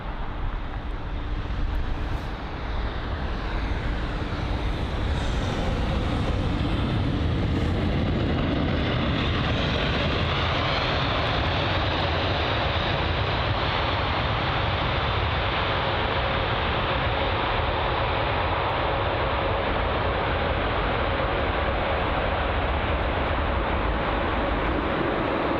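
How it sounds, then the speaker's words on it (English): American Airlines Boeing 787-9 Dreamliner arriving at London Heathrow, a broad steady jet roar that swells and then eases into a sustained rumble, heard alone across the whole stretch without voices. "Here's the American Airlines 787-9 Dreamliner."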